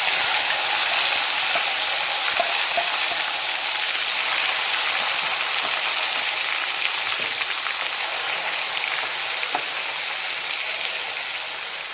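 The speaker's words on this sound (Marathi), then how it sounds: "आता हा मसाला आपल्याला व्यवस्थित भाजून घ्यायचा आहे पूर्ण तेल सुटेपर्यंत" Ground masala fries in oil for an Afghani egg curry, a dense, even sizzle that crackles like rain and stays loud and close throughout. No one speaks.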